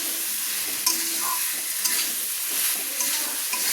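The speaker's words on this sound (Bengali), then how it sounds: "এবার যে সজনে ডাঁটাগুলো দিয়েছি সেগুলো আমি মশলার সঙ্গে একটু কষিয়ে নিচ্ছি" Drumsticks (moringa) and potatoes being stir-fried with spices in a pan give off a steady, close sizzle, with a few soft scrapes of a spatula stirring through them. No one speaks.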